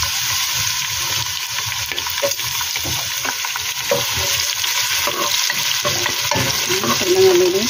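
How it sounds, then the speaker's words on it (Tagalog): Chopped onion frying in hot oil in a pan, a continuous bright sizzle broken by scraping stirs, close and steady with no talk. "So, lagyan ko na siya ng sibuyas."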